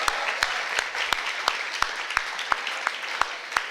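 Audience applause at a reception for an annual Black swim meet, a sustained wash of clapping with a few sharper claps standing out at a steady pace.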